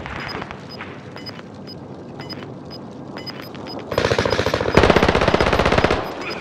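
Automatic gunfire from the video game Call of Duty: Modern Warfare. Light rapid shots rattle at first, then heavy, loud sustained bursts of machine-gun fire take over in the second half.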